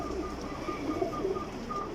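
Flying pigeons coo softly in a continuous low murmur, several birds overlapping at moderate distance with no talk.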